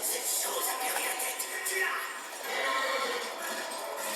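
A pony whinnies and neighs in the action game Darksiders, with game effects and ambience filling the background while people talk over it throughout.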